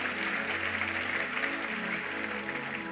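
A church congregation applauds in a steady, dense wash of clapping that holds for the whole stretch, filling the room at even volume.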